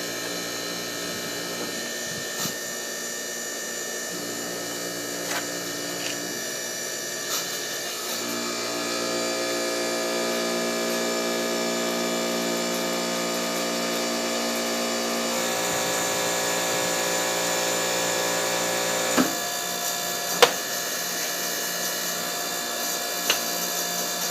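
A portable hydraulic press squeezing 2 7/8 inch oil-filled tubing, heard as a steady, close mechanical whine that strains harder partway through, with a few sharp clicks and creaks near the end.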